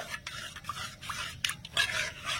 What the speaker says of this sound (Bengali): এবার নেড়ে ছেড়ে ভালো করে মিশিয়ে নেব, আর আমি কিছুক্ষণ রান্না করে নেব।